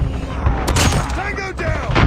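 Rapid gunfire from a shotgun-focused shooter video game cracks and thumps in quick succession, loud and close, with voices and game chatter mixed in underneath.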